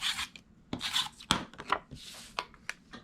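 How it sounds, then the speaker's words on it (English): Tape gets pulled and pressed onto the back of a paper piece for a handmade journal, giving close, quiet rasping rubs and short sharp crackles in an irregular rhythm, with no one talking. "I'm going to add some tape to the back of this."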